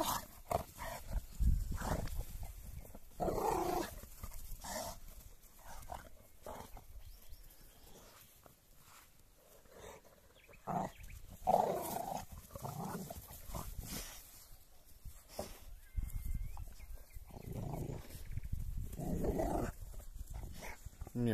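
An American Bulldog growls and snarls in scattered bursts, fairly faint and muffled, with some scuffling between the growls.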